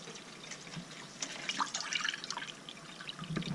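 Hot water heated by a wood stove runs from a tap in an off-grid roundhouse, a soft trickling and dripping stream with small splashes that stays fairly quiet and steady for a few seconds.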